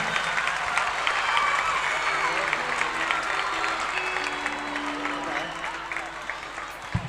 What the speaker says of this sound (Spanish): El aplauso bien fuerte para él.